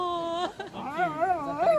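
Several dogs howl and whimper in wavering, rising and falling tones alongside a singing child in an apartment in Verona, Italy, close and fairly loud for under two seconds.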